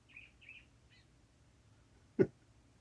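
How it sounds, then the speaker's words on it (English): Faint high chirping bird calls repeat a few times in quick succession outdoors, followed by a single short low thump. "You hear that bird?"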